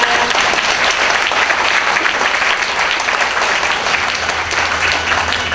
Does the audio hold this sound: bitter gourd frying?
no